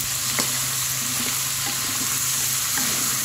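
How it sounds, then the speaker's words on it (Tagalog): Papaya pieces saute in a pan for chicken tinola with a steady, loud, close sizzle and light stirring scrapes throughout, no voices. "lagay na rin natin itong ating papaya sa isang gisahan"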